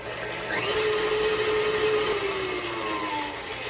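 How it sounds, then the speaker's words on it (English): Banana cake batter being blended with flour by an electric mixer, a steady continuous motor whir with a rising and falling tone, fairly close and without speech. "Give that a mix."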